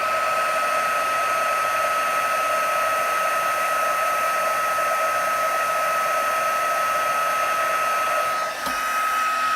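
A heat tool used in card making, warming ink, blows a continuous, steady, loud whirring hiss close by for the whole stretch, with a small bump near the end.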